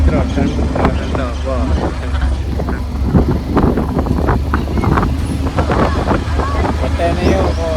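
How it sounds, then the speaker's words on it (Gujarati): Strong, cool wind blows outdoors near Pavagadh hill, buffeting the microphone in heavy low rumbling gusts while someone talks throughout. "પવન મસ્ત આવ્યો મિત્રો ઠંડો ઠંડો"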